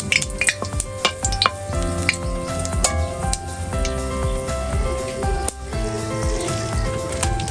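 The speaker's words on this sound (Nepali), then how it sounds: "तेल तात्तिए पछाडि चाहिँ हामीले चाहिँ यो जुन धनियाँ यो तेजपत्ताहरूको उस छ नि यो हालौँ है।" Coriander and bay leaves sizzle and crackle in hot oil in a Nepali village-style kitchen while a local chicken curry is being made, a loud close steady frying hiss with scattered pops and stirring clatter.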